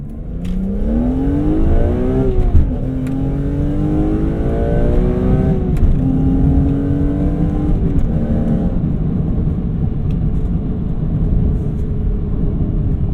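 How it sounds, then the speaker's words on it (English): A high-revving BMW E46 M3 with an S54 engine and SMG gearbox climbs and drops through several gears, with sharp blips on the downshifts, loud and close for the entire stretch. "It's a more crisp downshift."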